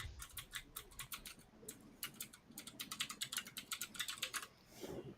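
Fast typing on a computer keyboard, close and brisk bursts of key clicks with brief pauses, alone and fairly quiet.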